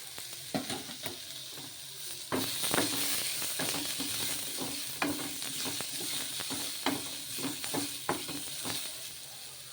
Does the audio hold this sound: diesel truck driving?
no